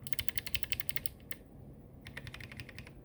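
Someone types on a ZSA Voyager low-profile keyboard fitted with clicky White Kailh Choc switches on some keys. The sound is bursts of quick, crisp keystrokes at close range, with a short pause in the middle and no voices.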